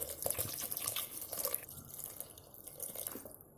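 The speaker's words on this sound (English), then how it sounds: "Add in some more water." Water is poured into a pressure cooker of spicy jackfruit curry, giving a light, steady trickling and dripping of liquid throughout, faint and close with no talk.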